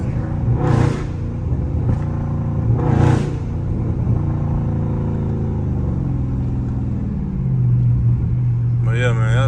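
A stage 2 tuned Dodge Scat Pack engine rumbles and pulls hard, its deep exhaust drone rising and falling through repeated revs and surges, loud and close throughout, with no talking over it.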